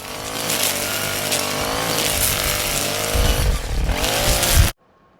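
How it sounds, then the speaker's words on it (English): Gas string trimmer whines continuously at high revs while cutting weeds around a garden bed, rising and surging near the end before cutting off abruptly. "Gary just started doing some weed eating and mowing while I was finishing this up here."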